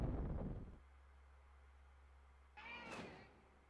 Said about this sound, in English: That's not the same meow.